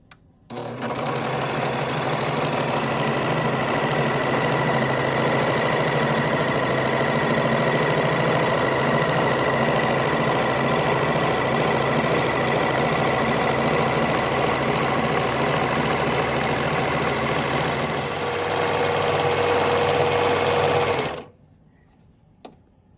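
Sewing machine stitching a rolled hem around a skirt: a loud, steady mechanical whirr that runs continuously for about twenty seconds, shifts pitch slightly near the end, then stops abruptly, with no talking.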